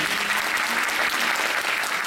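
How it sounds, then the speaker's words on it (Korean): Applause from the audience at a radio acting awards ceremony, a dense, even wash of many hands clapping at once, steady and moderately loud with a faint crowd murmur. "여러분 박수 부탁드립니다"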